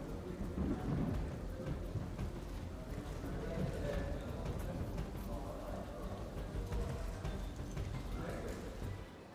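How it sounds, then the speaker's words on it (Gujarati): Heavy stormy rain pours over Rajkot city in a dense, loud, unbroken roar, with a deep rumble running underneath throughout. "રાજકોટ શહેરમાં 1 કલાકમાં 1 ઇંચ કરતાં પણ વધારે વરસાદ, તોફાની વરસાદ પડ્યો"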